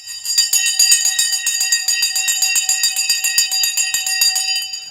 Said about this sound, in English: The bell has gone,